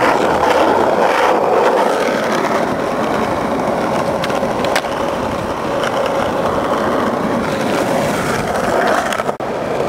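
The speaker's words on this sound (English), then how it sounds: "a pop shove it is just a 180 spin of the board" A skateboard rolls loudly across pavement in a continuous rough, gritty rumble, with a few faint clacks from the board during a pop shove-it attempt, close and steady throughout.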